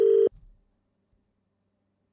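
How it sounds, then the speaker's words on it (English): A single short telephone busy-signal tone on an unanswered call, loud and close, cutting off abruptly after about a quarter second, followed by brief low rumble and then near silence. "Why isn't he answering the phone, Bray?"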